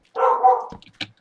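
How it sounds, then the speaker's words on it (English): Dog barking in the video game Minecraft, heard as a loud sustained bark-like burst followed by a couple of short, sharper yips, up close with no speech. "Hey, dog, you're worse than the cows in Minecraft."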